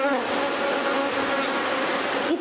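Honeybees buzzing in a dense, continuous swarm drone, loud and close, holding steady for the whole stretch with no voices.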